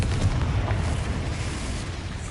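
A Confringo fire spell blast in Hogwarts Legacy, heard as a dense, rumbling explosive roar that stays loud and steady for a couple of seconds without any voice over it.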